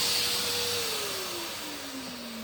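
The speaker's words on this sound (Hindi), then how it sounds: "ये बंद हो चुका है, वैक्यूम अब भी चल रहा है।" Wet-dry vacuum cleaner keeps running alone after a sander switches off, a steady, moderately loud motor hum with a slowly falling tone and no talk.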